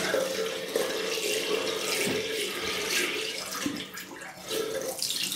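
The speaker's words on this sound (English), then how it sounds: "just get some warm water into the sink." Warm tap water runs steadily into a sink, a continuous close splashing rush with small gurgles throughout.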